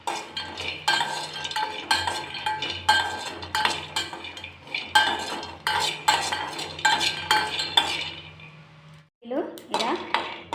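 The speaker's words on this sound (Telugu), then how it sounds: "ఇప్పుడు కొన్ని పల్లీలు తీసుకొని ఇలా వేయించుకోవాలి చట్నీకి." Peanuts being roasted for chutney in a metal pan, with a spoon scraping and clinking against the pan in quick, repeated strokes, close and fairly loud, then a brief pause before the stirring resumes.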